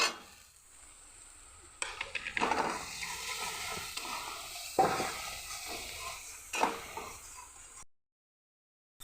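Spiced masala of turmeric, chili powder, cumin-coriander powder, salt and a little sugar stir-fried in oil for sheem chorchori: a steady close sizzle with repeated spatula scrapes and knocks against the pan, ending in a sudden second of silence.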